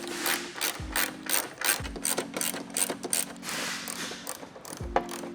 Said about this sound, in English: We'll go ahead and remove those 4 bolts, and then we can pull out the headlight and remove the plugs.